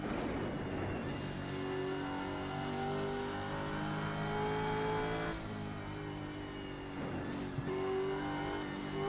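Camaro race car in the iRacing sim, the engine droning loudly and steadily with rising revs, gear changes audible as brief dips around the middle and near the end, with no talking.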